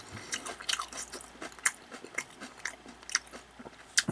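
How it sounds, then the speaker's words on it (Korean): Crisp bites and chewing of a Korean pan-fried stuffed chili pepper jeon, the pepper hollowed out and filled with meatball-style stuffing, heard as irregular close crunches and mouth clicks with no talking. "사각사각 씹히는 맛이 좋네요."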